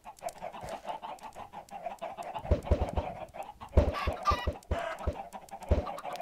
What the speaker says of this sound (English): I already have a lot of chickens in here